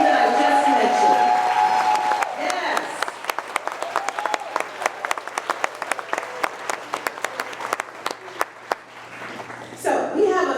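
An audience at a gala awards ceremony for Maryland Realtors breaks into sustained, fairly loud applause after someone speaks, the clapping dense and steady before fading, with talk resuming at the end.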